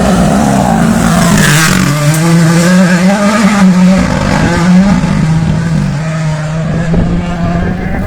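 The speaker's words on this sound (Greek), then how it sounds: "Και έρχεται το τέταρτο αυτοκίνητο στην ειδική διαδρομή." A rally car races through a gravel special stage on the Gerania mountains during Rally Acropolis, engine loud and close with a rising, wavering drone and gear shifts as it passes.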